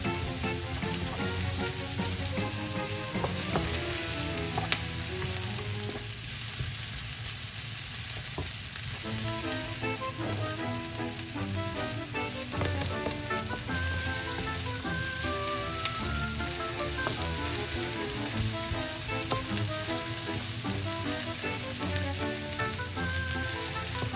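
Onions sauté in a pan for ginataang Baguio beans with fish, a steady dense sizzle and crackle with occasional stirring, heard under continuous background music.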